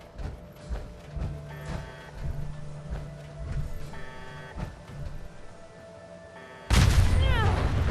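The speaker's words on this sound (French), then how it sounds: "quelle explosion" An explosion in the video game Fallout 4 arrives as a sudden loud blast near the end, following a stretch of scattered thuds and game sounds.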